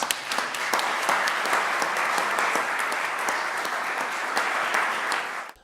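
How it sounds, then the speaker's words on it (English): An audience at a West Hollywood city council meeting applauds commissioners, a dense, steady round of clapping that holds evenly for several seconds before tapering off at the end, with no voices over it. "Please give them a round of applause."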